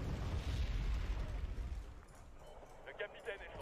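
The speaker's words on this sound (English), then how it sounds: "Lots of artillery coming down." Artillery shells land in the wartime strategy game Wargame: Red Dragon, a loud, deep rumbling blast that rolls and fades into scattered distant crackles, with a voice talking over it.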